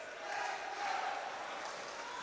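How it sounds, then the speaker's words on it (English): Ice hockey crowd at a Widnes Wild home game against Solway Sharks, a steady roar of arena cheering with a swell partway through, heard continuously at moderate distance. "Widnes crowd finally waking up"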